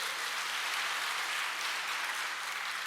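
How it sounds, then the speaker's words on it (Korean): Church congregation applauding after a sermon testimony, a dense, even wash of clapping at moderate distance that holds steady throughout without any voices. "할렐루야, 박수 한번 듭시다"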